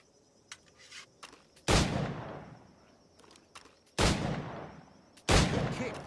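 Flintlock firearm shots in Assassin's Creed 4, three loud sharp blasts spaced a couple of seconds apart, each trailing off in a long echo, with faint clicks in between.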